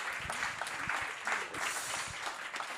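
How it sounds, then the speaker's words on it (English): An audience at a young innovator awards ceremony gives a round of applause as a guest is called to the stage, fairly quiet and diffuse clapping with a few distinct nearby claps. "please give him a round of applause"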